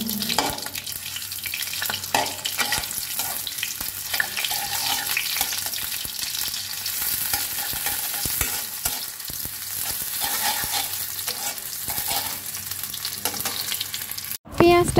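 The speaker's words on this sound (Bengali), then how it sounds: "আমি তেলের মধ্যে একটু পেঁয়াজ দিয়ে দিচ্ছি" Onion frying in mustard oil in a wok makes a loud, steady sizzle that runs unbroken for the whole stretch and stops abruptly at the very end.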